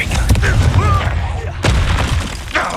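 Confringo fire spell from the Hogwarts Legacy video game bursting in a sharp boom at about 1.6 seconds, set among other spell effects and a voice calling out throughout.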